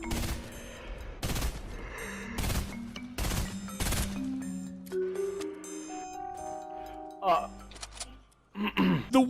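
Gunshots in Fortnite, a handful of sharp cracks in an irregular run over a game soundtrack with sustained musical tones, followed by scattered softer effects.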